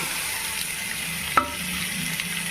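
Tomatoes and salt sautéing in hot oil in a pan for a sankara (red snapper) fish curry, giving a steady, soft sizzle with one sharp utensil tap near the middle and no talking.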